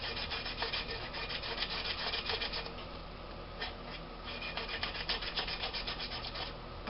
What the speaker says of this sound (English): you're going to get some sandpaper